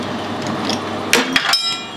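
A hammer strikes a drive shaft stake nut on a Mercury Pro Max 225 outboard in a few sharp metallic blows close by, after a quieter stretch of light workshop rustling.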